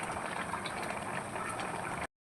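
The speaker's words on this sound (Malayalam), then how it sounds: "നമ്മുടെ മീൻ കറി നല്ലപോലെ തിളച്ചിട്ടുണ്ട്, റെഡി ആയിട്ടുണ്ട്." Fish curry bubbles in a pot, a close, steady simmering boil with soft popping that runs evenly for about two seconds and then cuts off.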